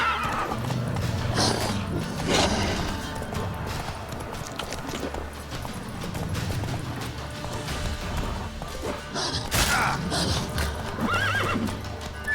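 Horse neighing and hoof clip-clops from The Witcher 3: Wild Hunt, the game's mount whinnying loudly several times over steady hoofbeats and game background noise.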